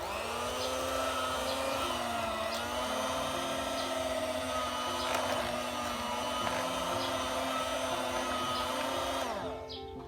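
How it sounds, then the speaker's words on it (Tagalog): A hand mixer whirs steadily, whipping cream for homemade ice cream, its motor a loud continuous drone that winds down at the very end, no talk. "now all we have to do is to mix this well using our hand mixer"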